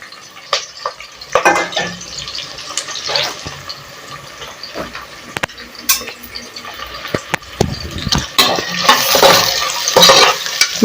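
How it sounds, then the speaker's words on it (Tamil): Onions, two large ones sliced and added after fennel seeds, sizzle in a pan while being stirred for plain kuska, with soft frying hiss and scraping strokes rising and falling throughout, louder toward the end. "இப்போ நல்லா வதக்கி விட்டுக்கலாம். இந்த வெங்காயம் நல்லா கொஞ்சம் ப்ரௌனா மாறட்டும்"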